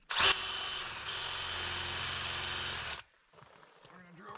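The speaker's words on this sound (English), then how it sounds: "let's go ahead, drill us a hole in the bottom" A power drill bores a hole into the bottom of a faulty well pressure tank, a loud steady whir running about three seconds before cutting off abruptly, followed by quieter handling noise and faint talk.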